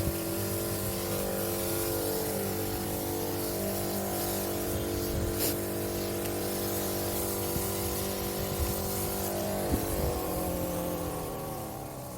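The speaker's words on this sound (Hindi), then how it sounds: "दवाई ये जो ऑर्गेनिक स्प्रे जो हम उड़ा रहे हैं फंगसाइड का" Organic fungicide is sprayed onto flowering garden plants, giving a steady, unbroken drone and hiss from the sprayer that runs evenly for the whole stretch before easing slightly at the end.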